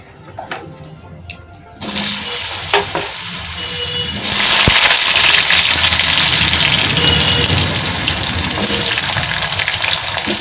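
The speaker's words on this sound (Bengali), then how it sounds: "এবার আলুগুলো ভেজে নিচ্ছি।" Potato pieces frying in hot oil in a wok, a loud, steady sizzle that jumps in and then grows denser and brighter partway through, continuing alone without talk.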